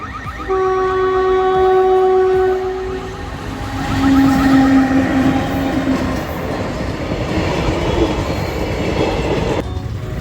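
A train rolls in loudly in Murshidabad, its wheels squealing with high metallic tones before settling into a rumbling clatter of cars passing close by.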